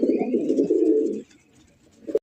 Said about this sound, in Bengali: এখানে তো দেখা যায় 4-4টা কবুতর আছে ভাই